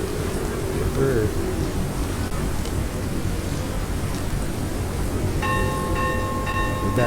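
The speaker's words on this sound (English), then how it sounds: "this is the town bell" A town bell in the video game Outlaws of the Old West rings with a few clear tonal strikes near the end, set against a steady rushing wash of storm rain and wind.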